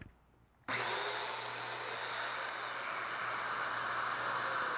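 A mortising machine's motor kicks on abruptly after a brief quiet moment, then runs at a loud, steady, close whine with hiss and no talking.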